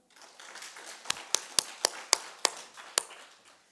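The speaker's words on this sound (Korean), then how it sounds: "여러분 삶이 충만해지셨으면 하나님께 충만한 박수 한번" Church congregation at an Easter Sunday service clapping in unison: about eight sharp, evenly spaced claps in a steady rhythm, rising from a soft start and fading at the end, with no talking.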